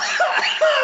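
A man gives a short, close, loud cough, two harsh bursts in under a second, during a spoken lesson on resistors.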